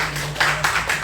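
A brief patter of hand clapping rises from a church congregation during a Sunday worship service, a few soft claps over a low steady hum.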